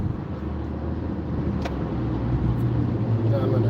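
Inside an old Caravan minivan, the engine drones steadily and rises slightly as it accelerates slowly, with a constant road rumble filling the cabin.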